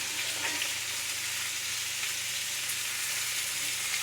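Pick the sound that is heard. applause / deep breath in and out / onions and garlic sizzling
onions and garlic sizzling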